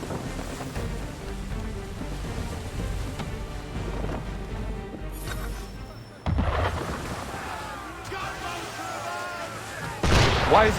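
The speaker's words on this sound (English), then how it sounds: "Why is he shooting at us?" Ship cannon fire booms in Assassin's Creed III at sea, heavy blasts landing mid-clip and near the end over wind, waves and a busy mix, with voices present.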